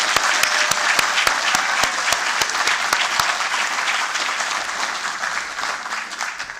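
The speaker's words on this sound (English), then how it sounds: "If I may I please ask you to give one more round of applause to Prof. Kambizi." An audience at an inaugural professorial address applauds in a sustained round of clapping with a few sharp claps standing out, gradually tapering off toward the end.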